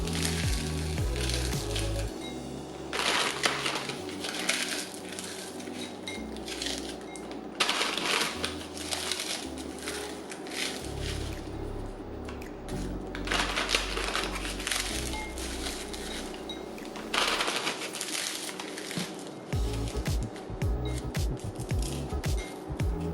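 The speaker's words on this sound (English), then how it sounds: "you're just gonna crush them up into your bowl" Lightly salted rice cakes are crushed by hand into a bowl with loud, crunchy, crackling bursts that come in repeated waves, separated by short pauses and softer rustling.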